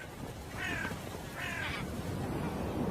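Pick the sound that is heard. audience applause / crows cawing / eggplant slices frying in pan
crows cawing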